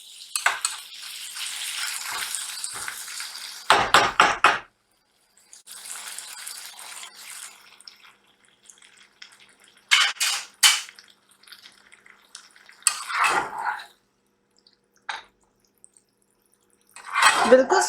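Aloo baingan, potatoes and brinjal, cooks in a pan with a little added water, giving intermittent bursts of sizzling and bubbling separated by quiet gaps.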